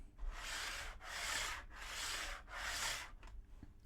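A TT120 model railway wagon rolling on track stuck down to foam makes a raspy, rumbling rub in four rhythmic swells, each about a second long, fairly close and moderately loud, trailing off into faint clicks.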